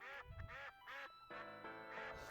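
Ducks in the Dink Smallwood video game quack in a run of four or five distinct, nasal calls, fairly quiet and with no talking over them.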